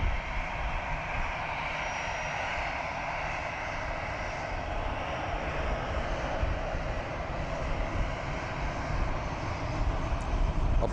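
An EasyJet airliner's jet engines roar steadily at Southend Airport, a loud, continuous broadband drone holding level throughout with no speech over it.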